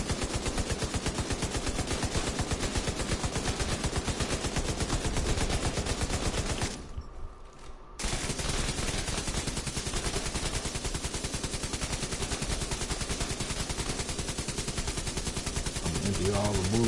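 Light machine gun fire in the shooter game Division 2, a dense, continuous automatic stream of shots that breaks off for about a second, then resumes just as heavily, with faint talk mixed in.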